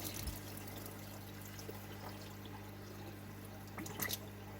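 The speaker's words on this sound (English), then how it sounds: "I'm pouring in water." Water pours and trickles into an aquarium tank, with small splashes near the end, over a constant low electrical hum.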